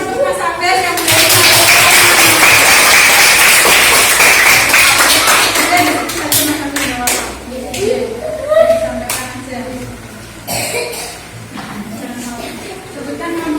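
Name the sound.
classroom applause for a student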